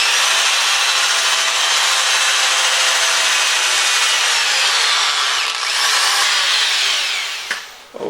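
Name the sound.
disc sander sanding wood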